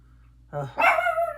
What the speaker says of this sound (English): And the dog will bark.